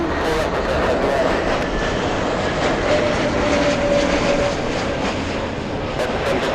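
A Southwest airliner takes off at LAX from runway 24 left, a steady, loud broadband engine roar sustained throughout, with no talk over it.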